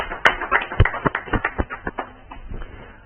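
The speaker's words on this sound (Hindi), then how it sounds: "जोरदार ताली के साथ हम उनका स्वागत है।" An audience at a poetry gathering claps to welcome a poet, a short burst of irregular hand claps that thins out and fades within a few seconds.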